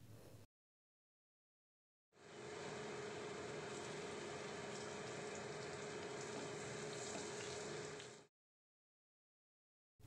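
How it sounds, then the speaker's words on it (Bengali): Two green chillies tempering in hot refined oil and butter: a faint, steady sizzle that starts abruptly, holds evenly for about six seconds, then cuts off, with no voices. "একটু গরম হলে তার ভেতরে 2টো কাঁচা লঙ্কা আমি ফোড়ন দিচ্ছি।"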